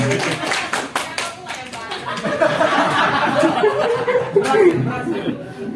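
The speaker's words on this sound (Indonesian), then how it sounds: "Yeay, tepuk tangan." Audience applause in a classroom during a vote count, a steady burst of clapping with chuckles and chatter mixed in, lasting several seconds.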